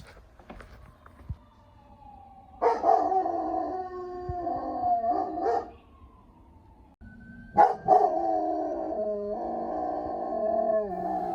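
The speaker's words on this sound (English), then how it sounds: "once he's done barking at the ambulance" A dog barks a few times, then howls in long drawn-out wails, moderately near, with a faint ambulance siren wailing in the background.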